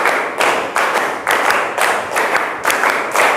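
A group claps in steady repeated bursts during a classroom clapping game, about seven evenly spaced rounds of quick claps, loud and close with no talking.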